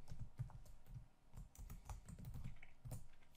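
Rapid clatter of fingers on a computer keyboard entering a spreadsheet formula, close and moderately loud with uneven bursts of keystrokes and short pauses, no voices.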